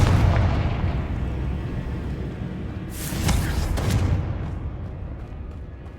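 Confringo fire spell blasts in Hogwarts Legacy, a heavy, rumbling explosion with a sharp crackling burst midway, followed by a lingering low boom; no speech.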